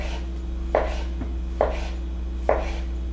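A knife slices a raw radish and yellow squash into thin pieces on a cutting board, three distinct chopping strokes spaced about a second apart, close and clear over a steady low hum.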